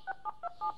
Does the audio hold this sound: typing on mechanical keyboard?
no